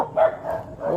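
A dog gives a couple of short, muffled barks and yips close by, all within about a second.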